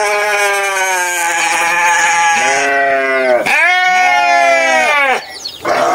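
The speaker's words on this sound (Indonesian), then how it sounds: "Lepaskan dulu biri-biri dalam kandang." Sheep in a pen bleat loudly and continuously at close range, several overlapping, wavering calls that rise and fall, with a short break before a final cry.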